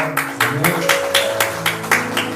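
A church congregation at a Korean Sunday worship service claps in a steady beat, about three claps a second, over quiet music.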